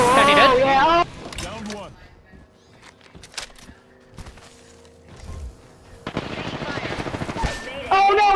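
Video game gunfire in a bursty firefight: rapid machine-gun-like crackles and shots between stretches of quieter engine hum, with excited voices talking over the action at the start and end.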